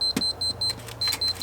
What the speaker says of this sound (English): timer is beeping.